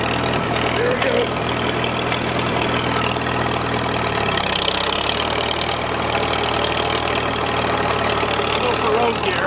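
The engine of an old abandoned tractor being revived runs continuously with a low, rough, knocking idle, loud and close, while voices talk over it.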